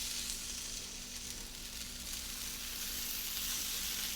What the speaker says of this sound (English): I'm just going to place these in little bunches on the griddle